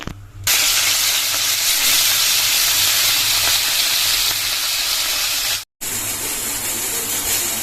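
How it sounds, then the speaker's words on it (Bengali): Oil heating in a wok in a home kitchen, giving a steady loud hiss and sizzle that holds without a break across the clip apart from one brief dropout. "এই দেখো কড়াইয়ে তেল দিয়ে দিয়েছি তেলটা গরম হোক"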